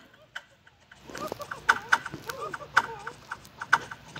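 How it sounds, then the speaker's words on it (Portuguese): A rooster clucking in the Roblox video game, a series of short sharp clucks spaced irregularly over a faint background, with occasional game sounds around them. "Isso aqui é um galo."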